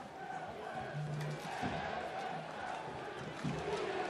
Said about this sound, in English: Atlanta fans starting to impose their noise on this stadium. Listen to the clap.